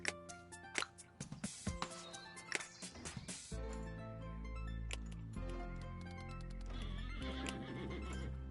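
A game horse in Let's Build a Zoo gives a loud whinny amid rapid hoof clip-clops, followed by a sustained musical drone.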